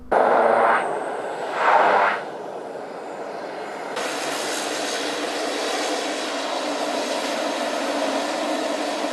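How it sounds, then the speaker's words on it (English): A fixed-wing plane roars steadily while landing on an uphill runway at a French airport, its engine noise swelling in two brief surges before settling into a broad, sustained rumble. "the plane looks like it's moving downhill, when in reality it's actually landing and traveling uphill"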